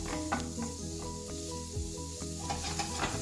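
Cumin seeds and softened onions sizzling in a pan, a steady close frying hiss with soft stirring scrapes throughout, no voices.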